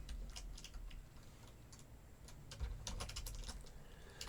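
Python code being typed on a computer keyboard, with quiet, irregular clusters of light key clicks over a faint background hum and no talking.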